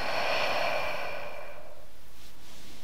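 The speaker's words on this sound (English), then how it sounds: "Take another deep breath in and a deep breath out." A long, deep exhale during a gentle yoga session, close and audible, fading out over about two seconds.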